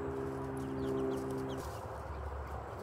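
Chickens cluck softly nearby, with a cow present, over a low background hum that drops away partway through.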